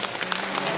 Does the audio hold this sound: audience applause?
yes